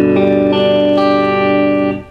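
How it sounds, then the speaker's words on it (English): An electric guitar chord strummed across all strings rings out loud and sustained through effects with chorus-like shimmer, holding for about two seconds before quickly fading. "so that when you strum all the notes it should sound like this"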